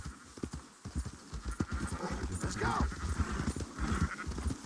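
A horse in an old-west video game gallops with rapid clip-clopping hooves and an occasional whinny, mixed with herd noise while someone briefly speaks over it.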